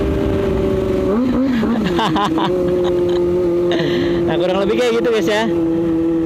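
A Kawasaki ZX25R motorcycle fitted with a Leovince carbon short exhaust idles loudly and steadily, then gets blipped in several sharp, rising revs close by, while someone talks over part of it.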